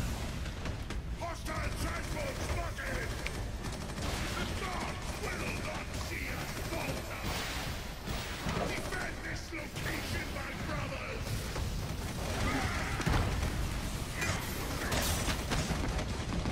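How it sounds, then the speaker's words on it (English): Gunfire and explosions from a battle in the video game Warhammer 40k Eternal Crusade rumble steadily and from a distance, a constant dense wash of booms and rattling shots that never drops away. "it sounds like I'm in the middle of a battle, but... I mean, like, right in the middle of gunfire"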